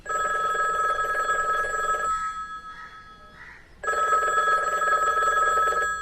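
Telephone bell rings loudly in a Bengali audio story, one long ring, a brief pause of about two seconds, then the ringing resumes at full strength, standing alone without talk.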